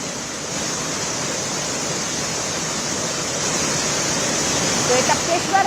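Floodwater rushes in a steady, loud, broadband roar after heavy rain and a cloudburst in Dehradun, near the submerged Tapkeshwar Mahadev temple where a road to Maldevta was washed away. The torrent runs unbroken throughout with no one talking.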